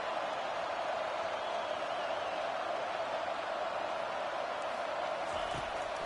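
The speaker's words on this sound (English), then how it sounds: "listen to this crowd noise. This stadium is vibrating." Dense, roaring stadium crowd at an NCAA college football game, a steady loud wash of cheering voices that holds constant throughout with no gaps.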